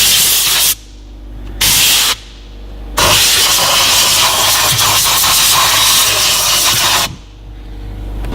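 Sharp bursts of compressed air hiss loudly from a blow gun cleaning a car dash and console, two short blasts followed by a longer sustained blast, with a low motor hum between them.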